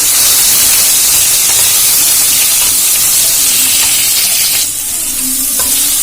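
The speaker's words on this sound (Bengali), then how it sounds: "এবারে দিয়ে দেবো এর মধ্যে টমেটো, টমেটোটা কিছুক্ষণ নাড়াচাড়া করে ভেজে নেব" Tomato frying in a pan while being stirred, for a green papaya and mung dal ghonto, with a steady, close sizzle and hiss throughout and a few soft stirring scrapes.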